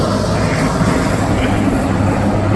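Outdoors, the president's plane flies overhead, giving a loud, steady roar of aircraft engines that fills the whole clip without a break.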